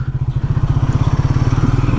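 Triumph Speed 400 motorcycle engine cruising on a highway, a loud, steady low-pitched throb with rapid regular pulses and a rattling vibration, close and continuous with no talk.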